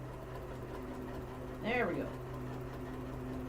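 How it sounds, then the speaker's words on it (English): Sewing machine stitching binding onto a Halloween table runner: a short, quick whirring burst of stitching rises over a steady low hum, with someone speaking briefly. "I think my sewing machine shifted a bit"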